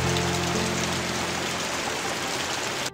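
Heavy downpour falling steadily and densely, a constant broadband hiss with no gaps, close and loud throughout, with a low rumble underneath and no voices.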